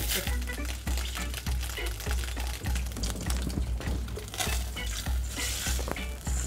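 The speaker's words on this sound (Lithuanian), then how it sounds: "Ir dabar išlydome. Ir išmaišome su šaukštu." About 90 grams of melted butter is stirred with a spoon in a pan for a caramel cake, giving a steady scraping, swishing rhythm with a soft background sizzle, close and fairly loud.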